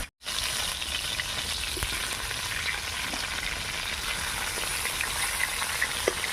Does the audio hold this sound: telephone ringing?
no